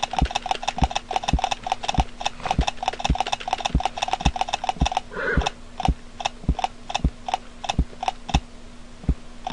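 Horse walking noise from the CLOP video game, a crisp, evenly spaced series of hoof clops repeating steadily over a faint hum, loud and close, with one brief extra sound midway.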